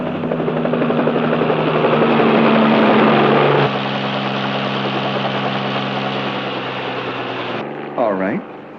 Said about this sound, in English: They've even got a helicopter circling over the roof.